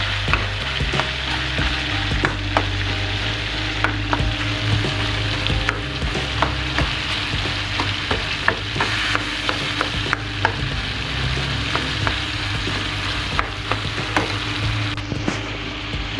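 Charsi karahi cooking in a pan with tomatoes, giving a loud, dense, continuous sizzle with frequent clicks and scrapes as the mixture is stirred up close, no voices heard.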